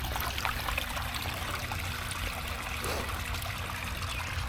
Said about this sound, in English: let the water drain out of the line and out of the waterfall